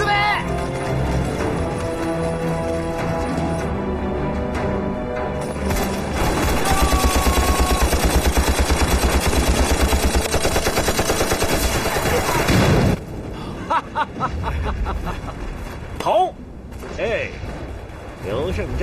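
A war film battle in which Eighth Route Army troops ambush Japanese soldiers, with sustained rapid machine gun bursts and gunfire. Loud, dense and continuous, it breaks into scattered shots and crashes near the end, with dialogue over parts.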